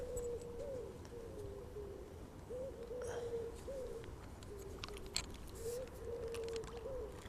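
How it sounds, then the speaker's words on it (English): Pigeons coo repeatedly, soft calls around 500 Hz-ish in a steady outdoor evening ambience at a fishing spot, several phrases spaced a second or two apart, moderately distant. "Pigeons are going crazy, cuckooing."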